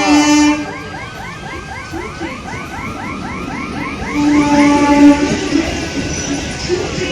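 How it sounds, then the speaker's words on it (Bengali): A train pulls into a station, its horn sounding briefly at the start and again later, with repeated rising wheel squeals or whistle-like tones in between, fairly close and loud. "দেখো গাইস এইখানে ট্রেন আসছে"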